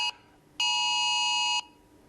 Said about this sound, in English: The phone's vibrating.